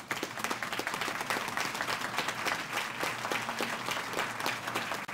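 Audience at a Trussville town meeting applauds with steady, dense clapping that holds for the full stretch, loud and close with no talk over it.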